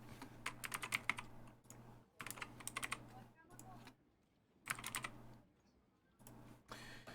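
Bursts of key clicks from a computer keyboard during flight-simulator setup for a PMDG 737, tapping in short clusters separated by pauses over a steady low hum, with faint speech underneath.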